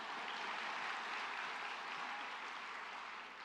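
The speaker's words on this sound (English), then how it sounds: "applause." An audience at a university spring commencement ceremony claps steadily, a dense, even wash of many hands heard from a distance and fading slightly toward the end.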